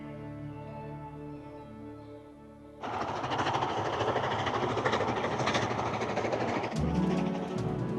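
A steam locomotive running on rails opens with a steady rolling drone, then a sudden, louder roar of wheels and rushing motion, with rhythmic rail clatter near the end.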